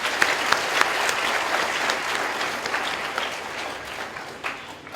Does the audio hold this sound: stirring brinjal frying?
no